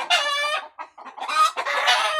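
Chickens cluck loudly and close by on a backyard farm in the Philippines, a series of harsh, raucous calls with short gaps between them, some drawn out like a rooster's crow.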